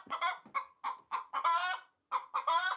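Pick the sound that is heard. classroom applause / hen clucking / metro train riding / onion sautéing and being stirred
hen clucking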